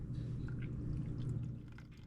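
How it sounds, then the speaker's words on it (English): Water is poured into a pot of barbecue sauce close by, giving a short, low, steady gushing pour that tapers off at the end, with no talk. "Got to add a little bit of the water."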